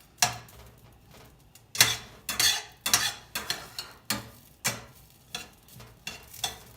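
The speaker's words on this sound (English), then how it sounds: "I'm gonna stir it for a minute or so" Refrigerated quinoa heating in a pan is stirred with a utensil, giving close, repeated scraping strokes in an uneven rhythm over a faint sizzle.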